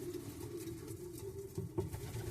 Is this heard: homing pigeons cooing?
yes